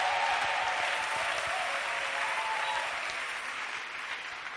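Congregation at a church service clapping for Jesus, a dense steady wash of applause from many hands that fades slightly toward the end.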